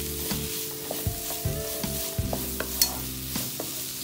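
Onion and ginger garlic paste fry in a pan for egg bhurji, a soft steady sizzle punctuated by frequent spoon scrapes and taps against the pan, close up with no voices.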